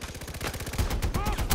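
Rapid automatic gunfire in Far Cry 4, a fast rhythmic burst followed by heavier shots and explosive thumps, close and loud, with a voice talking over it.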